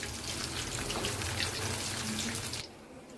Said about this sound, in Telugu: ఇప్పుడు మనకు ఆయిల్ అయితే వేడయిందండి, దాంట్లో ఒక్కొక్కటిగా వేసుకోవాలి.